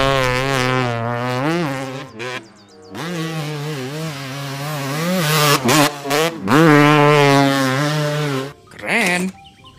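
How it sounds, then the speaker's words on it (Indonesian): Motocross motorcycle engine revving hard in repeated rising and falling surges, a loud buzzing whine that swells and dips with the throttle, close by and filling the whole stretch. "Wih, motor cross."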